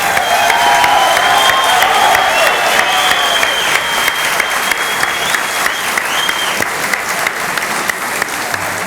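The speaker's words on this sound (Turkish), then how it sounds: "En çok alkışı siz aldınız hocam" Sustained, loud audience applause for a teacher after a Turkish folk song performance by a university chamber orchestra, steady dense clapping from a large crowd throughout, with no voices over it.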